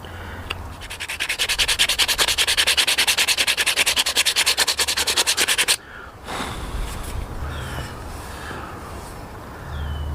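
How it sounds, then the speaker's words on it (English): Hand sanding of a wooden tree-fork natural slingshot gives fast, regular back-and-forth rasping strokes, loud and close, for about six seconds, followed by softer, scattered rubbing and handling. "we can always just sand them down a little bit"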